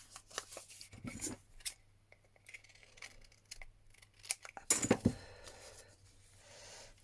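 Scissors snipping through paper at a craft table, a run of short crisp cuts with brief pauses between them and a louder cluster of snips near the end, close and dry with no voices.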